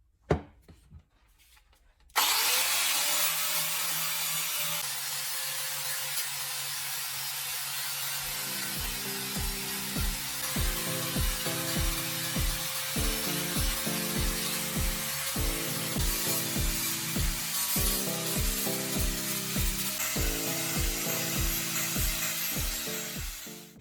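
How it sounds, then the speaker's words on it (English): A power tool grinding a knife handle made from melted plastic bottle caps into shape, a continuous loud abrasive whir with repeating rhythmic surges as the tool works steadily, close and without talk. "A steady grind gives a clean shape and prevents weak areas."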